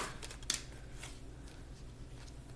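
Tarot cards are shuffled close by, a few quick riffling bursts followed by soft rustling and handling noises, with no talking.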